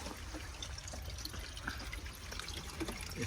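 Water from heavy rain trickles and drips toward a house foundation, a faint continuous flow with small splashes heard close, with no voices.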